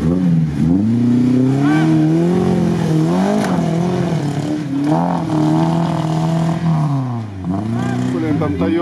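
A Chevrolet Niva off-road car revs hard during a rally, its engine rising and falling in pitch through repeated accelerations, loud and close, with people talking over it.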